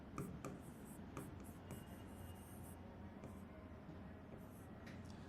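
Pen writing by hand on paper during a Bengali poetry lesson, a soft continuous scratching with brief strokes and taps over a steady low background hum, fairly faint and close.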